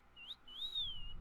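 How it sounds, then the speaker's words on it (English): A person whistles two clear notes, a short one then a longer sliding tone, quiet and close with no talking. "She whistles, the family whistle."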